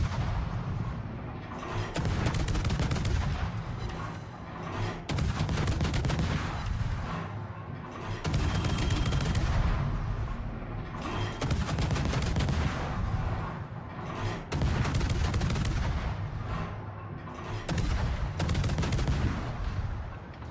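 Naval guns firing in World of Warships, heavy booming salvos repeating every few seconds, loud and close, each blast trailing into a long roaring decay.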